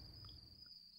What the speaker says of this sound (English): So it's like, there's a bunch of crickets outside.